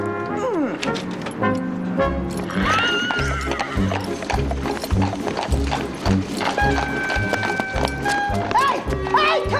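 A horse whinnies several times over steady, rhythmic hoof clip-clops at a brisk pace, loud and close, in a dramatized 1994 film scene with shouting voices in the mix.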